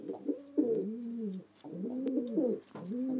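A pet pigeon cooing indoors, close and clear, repeating soft rolling coos in three bursts with short pauses between them.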